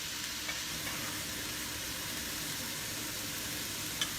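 Sausage and onion browning in a pan for a breakfast casserole give a steady, soft, close sizzle throughout, with one small pop near the end and no talking.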